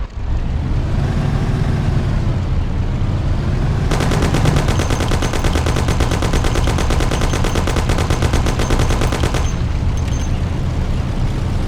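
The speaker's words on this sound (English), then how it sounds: "Take my Thompson. You and Sam shoot them." A Thompson submachine gun fires a long, rapid, unbroken burst in the Mafia: The City of Lost Heaven game during a car chase, loud and close over a steady engine roar, with engine noise alone before and after.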